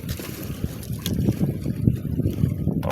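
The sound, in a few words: strong wind blowing on a fishing dike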